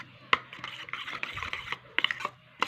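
A spoon stirring and mixing aloe vera in a small bowl, with soft scraping and several sharp clinks against the container.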